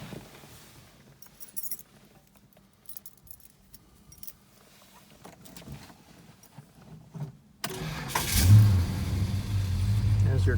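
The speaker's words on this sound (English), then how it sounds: "There's your Chrysler High Torque starter." A 1969 Dodge Charger RT/SE with a Chrysler high torque starter: keys jangle and click near the ignition over quiet cabin sounds, then the starter cranks and the engine catches into a loud, steady rumble at the end.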